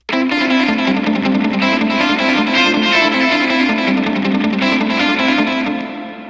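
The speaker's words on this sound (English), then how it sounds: "It's basically two guitar tracks playing in harmony." Two distorted electric guitars through a Line 6 Helix play a fast harmonized melody with echoing delay, loud and continuous throughout.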